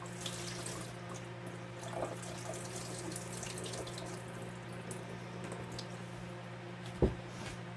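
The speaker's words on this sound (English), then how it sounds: "drain those off." Water runs and drains in a kitchen sink as something is rinsed and drained, giving a steady low, faint wash of flowing water with a brief splash near the end and no talk.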